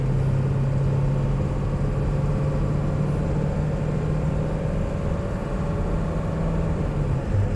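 A 2000 Ford Excursion Limited 4WD with the stock 7.3L Powerstroke diesel pulls steadily under load from inside the cab, a constant low engine drone with a faint whine holding through the run before easing near the end.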